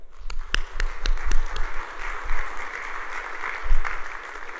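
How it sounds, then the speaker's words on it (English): A conference audience applauding the support team and past presidents, a swell of clapping that rises and fades with sharp individual claps near the start. "how about a round of applause for all of them?"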